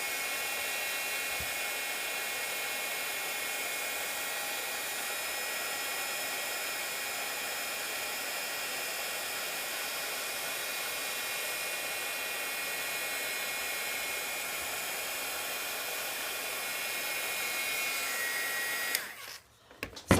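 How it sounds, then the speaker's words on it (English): Heat gun blowing on UTEE embossing powder during a craft stamping project, a loud steady whooshing hum running continuously nearly twenty seconds before cutting off abruptly with a click at the end. "then I come back here to my snowman and heat it up"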